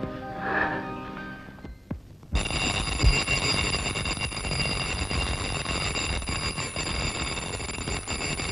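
An alarm clock rings loudly and steadily after a brief pause, its continuous bell-like trill sustained to the end, following a short stretch of an indoor film scene.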